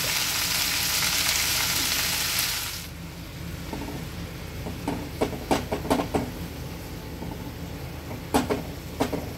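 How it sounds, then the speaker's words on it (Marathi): Fenugreek leaves and garlic roast in a hot pan with a loud, steady sizzle that eases after a few seconds. Scattered scraping and stirring clicks follow, with no one speaking. "ही थोडीशी लसूण भाजून घ्यायची आहे आणि त्याच्याबरोबर आपण ही मेथी लसूणाबरोबरच भाजून घ्यायची"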